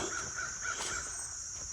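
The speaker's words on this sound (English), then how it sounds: "Crows in the background or whatever that is." Crows caw in the distance in a calm rural homestead setting, a string of four or five evenly spaced calls over steady outdoor background noise.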